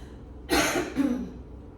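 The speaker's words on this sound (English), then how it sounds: "I won't cough all day just during this class" A single close, sharp cough with a second smaller cough right after, then quiet breathing.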